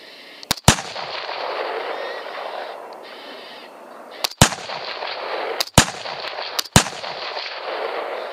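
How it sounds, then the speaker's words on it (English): Rifle gunshots while predator hunting red foxes outdoors: four sharp, loud cracks spread across the clip, each ringing briefly, over a steady background hiss with no speech. "Shoot him, Tom."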